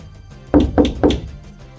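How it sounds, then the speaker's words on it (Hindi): Three firm knocks on a door in quick succession, close and hollow against near silence, used as a horror sound effect. "फिर वही खटखटाने की आवाज गूंजी"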